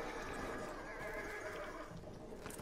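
A horse whinnies in the World War I shooter game Battlefield 1, a drawn-out neigh rising over a steady wash of game ambience and distant clatter.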